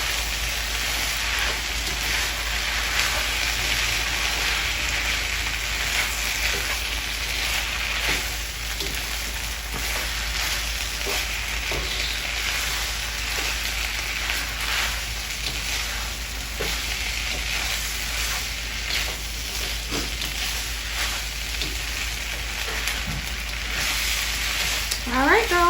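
Vegetable stir fry sizzling loudly and steadily in a hot pan as it is mixed, with a continuous hissing fry throughout and faint scraping and stirring knocks scattered over the top.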